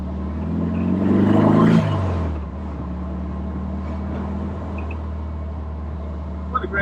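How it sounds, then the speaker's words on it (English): A Porsche 356 Speedster engine revs up to a loud, rising roar that peaks and then falls back into a steady, low rumble as the car drives on. The engine sound carries throughout, close by and strong. "What a great sounding engine"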